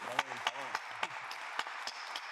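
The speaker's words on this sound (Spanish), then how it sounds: "los despedimos con un fuerte aplauso." Applause at a regional conference on territorial planning and environment, scattered and fairly faint, with a voice talking over it and a few distinct claps standing out.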